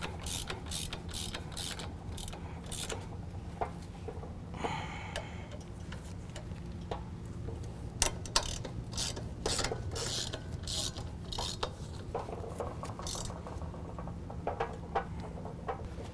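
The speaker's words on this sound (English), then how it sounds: "we can use our 16mm to tighten those down" A 16mm ratchet tightens brake caliper bolts while a Power Stop Z36 truck and tow brake kit is installed, giving quiet bursts of rapid clicking that start and stop repeatedly over a low background hum.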